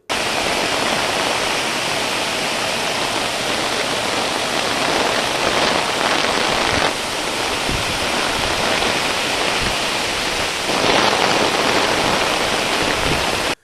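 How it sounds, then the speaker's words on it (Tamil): Heavy midday rain pours down steadily in a thunderstorm, a dense continuous hiss of water on surfaces with a few brief surges in intensity and no voices. "நண்பகல் இடியுடன் மழை வெளுத்து வாங்கியது."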